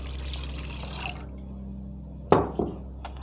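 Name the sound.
water being poured into a spice mixture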